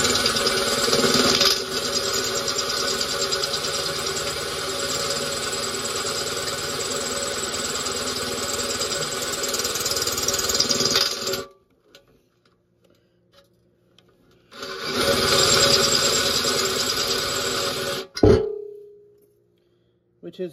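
A power drill whines steadily at high speed, boring through a broken screw extractor, stops for a few seconds, then runs again briefly before halting with a clunk.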